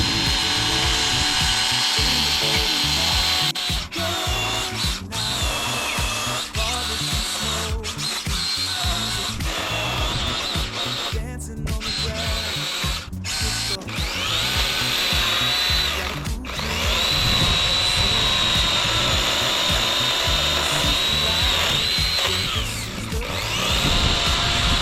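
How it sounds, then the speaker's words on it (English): Battery-powered saw with a small round tip carving into a wooden log, a loud, continuous buzzing grind with shifting pitch and brief pauses as the cutter bites into the wood, close up with no talk. "This saw has a smaller round tip on it."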